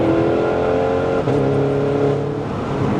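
Audi A3 8P all-wheel-drive track car accelerating hard from inside the cabin, a loud, steady engine drone with a brief dip in revs partway through before pulling on again.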